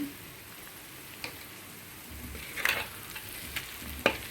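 Chopped onions frying in hot oil with a quarter spoon of chili powder added for an egg dish, a soft steady sizzle with a few faint clicks and stirring scrapes, close and quiet, no talk.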